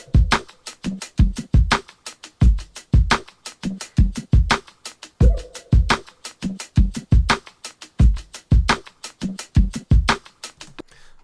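A chopped drum break loops steadily, punchy kicks and snappy hits in a tight repeating groove, loud and close with no voices.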